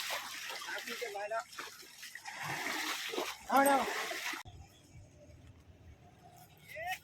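An elephant is bathed with splashing water, with bursts of splashing and trickling heard under a man's speech, before the sound drops to quieter background noise.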